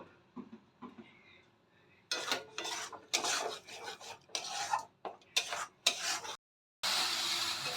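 Onions and tomatoes cooking down in a pan for chicken kofta curry are stirred with a spatula, giving quiet, irregular rasping scrape strokes with a faint sizzle between them.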